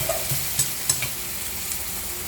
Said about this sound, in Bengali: এই যে পেঁয়াজ ভাজা হইয়া গেছে